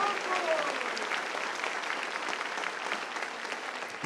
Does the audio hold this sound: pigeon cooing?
no